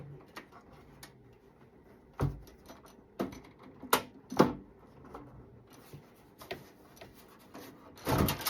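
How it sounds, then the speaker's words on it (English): Something loose rattles inside a Mac computer, heard as sparse, faint clicks and knocks scattered at irregular intervals, with a louder shuffle of handling at the end. "Something's loose and rattling."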